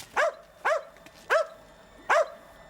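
A dog barks four times in an even rhythm, each bark loud, close and clear over a quiet background, with no talking.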